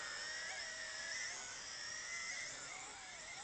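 A Tarantula X6 drone whines at high speed, its tight high-pitched rotor buzz wavering up and down in pitch as it maneuvers, steady and fairly close throughout.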